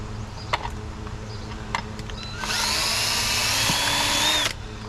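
Power drill with bit running steadily for about two seconds during garage door sill installation, a loud high whine after a few light knocks and taps, alone without talk.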